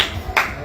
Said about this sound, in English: We clap for them.